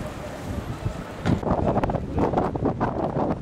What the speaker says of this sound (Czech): Duje tady velice silný vichr, studený, ledový